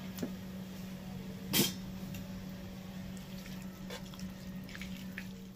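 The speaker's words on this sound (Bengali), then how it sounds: "এবার একটু জল দেব" Water is poured into a cooking pot for boiling spinach, a soft steady wash over a low electrical hum, with one brief louder splash near the start.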